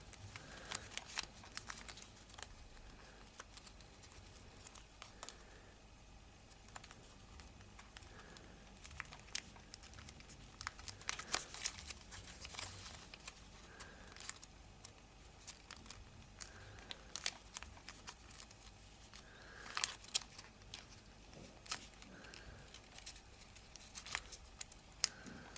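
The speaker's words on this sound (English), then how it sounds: "you can then do small inside reverse folds, pushing that paper in" Paper creases and crinkles softly as small inside reverse folds are pressed into an origami baby model, a long sequence of faint, close crackles and rustles with scattered sharper crunches and no talk.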